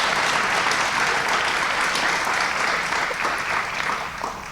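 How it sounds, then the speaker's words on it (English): Warm applause from an audience at an evening event celebrating young elementary school writers, a dense clapping wash lasting several seconds and fading slightly toward the end. "Give another round of applause for our writers tonight."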